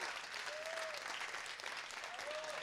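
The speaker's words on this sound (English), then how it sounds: "Come on, a big applause for this guy." Steady, fairly distant audience applause at a tech entrepreneurship camp event, continuous clapping throughout with a faint tonal whistle-like sound in the background.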